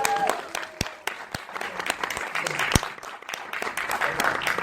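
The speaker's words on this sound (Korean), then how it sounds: "여러분 뜨거운 박수 부탁드리겠습니다." Audience applause at an animated film screening and Q&A event as the director, voice actors and producer are introduced; steady, dense clapping fills the room with a few louder individual claps standing out.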